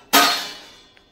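A metal lid is set down over a wok where rocket fish is being steamed bhapa-style in a home kitchen. It gives one sharp, close clang that rings and fades over about a second.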